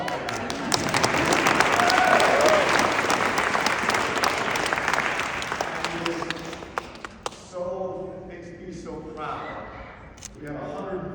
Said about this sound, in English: you applaud that